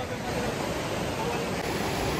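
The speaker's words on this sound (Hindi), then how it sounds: "हम तो झरना के बीच में ही बैठ गए, मतलब जो पानी जहाँ से फ्लो रहा था वहाँ बैठ गए बीच में" A waterfall pours nearby, giving a dense, constant roar of rushing, splashing water that fills the whole span at steady, fairly loud level with no pauses.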